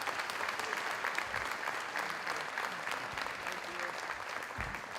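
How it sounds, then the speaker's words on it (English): Steady audience applause fills a room at a high school athletic award night, sustained clapping from a sizable crowd with a few voices mixed in. "So big round of applause for those two gentlemen"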